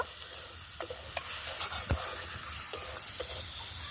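Chopped tomatoes with turmeric and salt sizzle in a pan, a soft steady frying hiss with occasional light spoon scrapes and taps.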